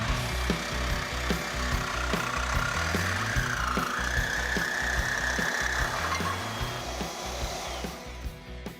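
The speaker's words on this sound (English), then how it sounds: "You know why I always win the Sawzall race?" Sawzall reciprocating saw cutting through car body sheet metal during a race, a loud, fast rhythmic rasping buzz with repeated stroke pulses and a wavering pitch, running continuously, no voices.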